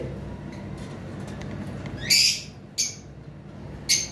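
Lovebirds give three harsh, shrill squawks in short bursts over a low background hum, fairly close, with quieter chirps before them.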